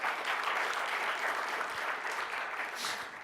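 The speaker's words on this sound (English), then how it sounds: "a round of applause for John, who did a fantastic job" An audience applauds for a speaker at a talk, a dense, steady burst of clapping that fills the room for a few seconds with no voices over it.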